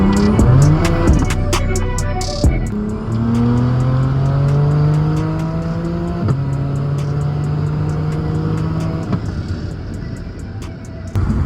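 A Toyota A90 Supra engine revs hard and accelerates on a street through several gear shifts, loud and close, with a roaring exhaust and no talking.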